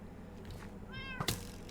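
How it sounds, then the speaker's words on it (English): A cat meows in the video game Feed my Beast, one short, clear, rising meow followed by a brief squeak, heard alone over a low background hum. "I don't know how that cat managed to get up there."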